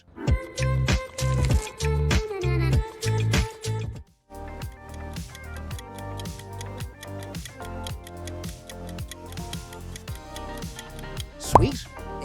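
A short M&M's candy brand jingle plays alone: a bright, bouncy musical sting with rhythmic plucked and percussive hits, a brief pause, then a busier second section that ends in a sharp accent.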